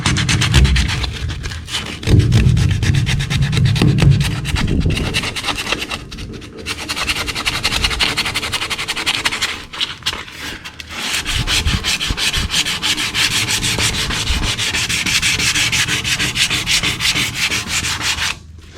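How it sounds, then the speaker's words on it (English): Hand sanding out a crack in paint down to bare metal: loud, continuous, close abrasive rubbing in back-and-forth strokes, with brief pauses between bursts and no talking. "you want to sand that crack out and just get it out of there"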